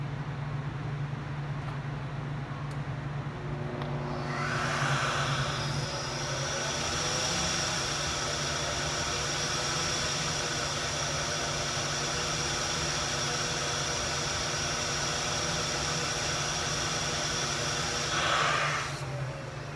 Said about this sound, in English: now we're gonna flow the 4412 XP carburetor at the same 5 inches